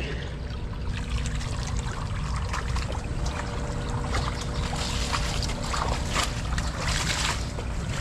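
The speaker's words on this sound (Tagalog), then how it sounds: "ayan, ito na nga po yung tubig" Water splashes and trickles steadily, like a stream being poured out, with constant gurgling and no talking.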